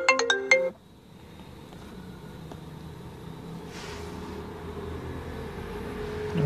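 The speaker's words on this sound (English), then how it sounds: "Sorry about the interruption from some unknown caller." An iPhone 8 Plus ringtone chimes for an incoming call in a quick burst of bright melodic notes, then cuts off abruptly, leaving a faint background hum.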